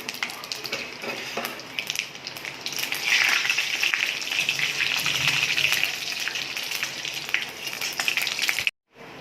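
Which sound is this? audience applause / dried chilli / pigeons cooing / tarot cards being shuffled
dried chilli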